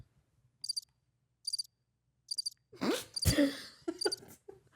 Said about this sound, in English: Why crickets for that one?